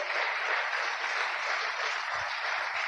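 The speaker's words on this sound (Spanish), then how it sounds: "¿Cuántos le dan ese aplauso bien fuerte al Rey de Reyes?" A church congregation claps steadily in a dense, even wash of applause that runs without a break for about three seconds, with no speech over it.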